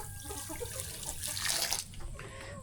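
Water runs and splashes steadily, poured for chickens on a rural Philippine farm, soft and close, with no talking.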